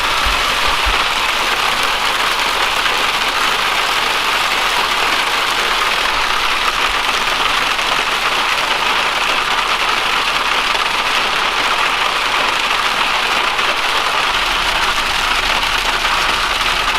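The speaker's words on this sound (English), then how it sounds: "Oh, jeez, man. Look at the hail." Hail pelting down outdoors in Vancouver, a dense, steady hiss and patter that holds loud and unbroken throughout, with a low engine rumble underneath.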